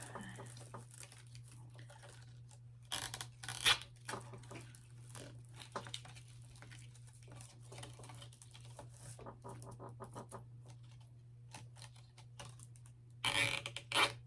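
Zip ties are pulled tight onto an eagle-in-flight wreath, giving quick ratcheting clicks in short bursts with quiet handling and rustling between them and a low steady hum underneath.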